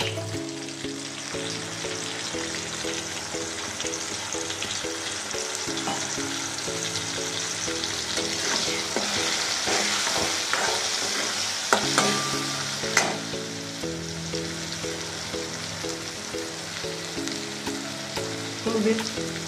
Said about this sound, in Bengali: রসুনটা ভাজা হয়ে গেছে। আমি টমেটোগুলো ছেড়ে দিচ্ছি। এতে হলুদটা দিয়ে দিচ্ছি।